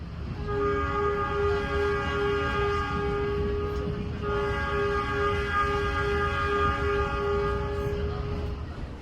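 The Pangandaran panoramic passenger train rolls along with a loud, steady rumble. A long, sustained horn note blares over it for several seconds, pauses briefly, then sounds again.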